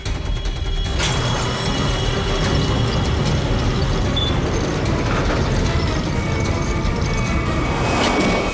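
Door mechanism in a building closing by itself: a sharp mechanical clank followed by ratcheting, grinding machinery over a constant loud droning background, ending with another clunk, no speech.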